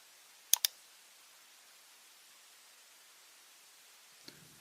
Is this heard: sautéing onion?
no